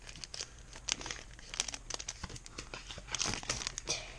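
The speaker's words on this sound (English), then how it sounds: "Go ahead and open up that breakthrough pack." Crinkly foil wrapper of a Pokémon card booster pack being torn open, with close, irregular crackling and tearing bursts throughout.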